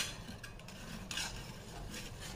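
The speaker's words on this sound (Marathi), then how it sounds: "ते पाकळ्या अख्खे टाकलेले आहेत आपण, त्या मस्त स्मॅश करून घ्यायच्यात. राजमा स्मॅश करायचा आहे." Cooked rajma and whole garlic cloves for dal makhani are mashed in a pot, giving faint, soft scraping and squelching strokes in a quiet, close kitchen with no talking.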